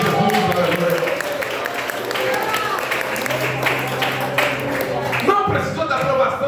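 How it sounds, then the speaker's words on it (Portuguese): A church congregation applauds, with sustained clapping from a crowd filling the room, steady and loud, mixed with voices and background music throughout. "Você pode dar uma salva de palmas para o Rei Jesus"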